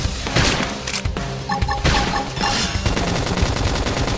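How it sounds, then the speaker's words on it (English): Gunfire in the Xenoblade Chronicles X video game, a dense fusillade of rapid shots and booms mixed with in-game effects and music, loud and continuous throughout. "Topple them with gunfire"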